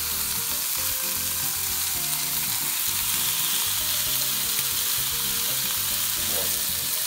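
Pork-wrapped tomato rolls with shiso and basil sizzle steadily in a small pan over medium heat, a continuous close frying hiss with faint scrapes of stirring and no talk.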